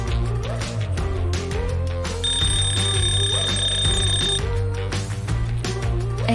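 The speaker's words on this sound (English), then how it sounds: "He can set a countdown timer to help you track with your work." An Eilik desk robot's countdown timer sounds a steady electronic ringing alarm tone for a couple of seconds over loud, busy background music.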